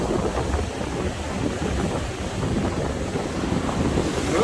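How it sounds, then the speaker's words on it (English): A strong offshore wind blows over the water of the Coorong, a continuous low roar with heavy buffeting on the microphone and a faint wash of water beneath, no voices. "Even though it's really windy, it's an offshore breeze, so it's fairly calm."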